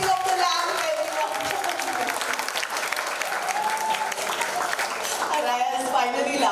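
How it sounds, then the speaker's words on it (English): An audience applauds steadily for a ceremonial lamp lighting at a children's book launch event, a dense sustained wash of clapping with a few voices and cheers mixed in throughout. "a round of applause for the ceremonial lighting of the lamp, everyone."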